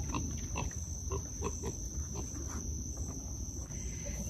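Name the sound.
pig named Pickles grunting in its pen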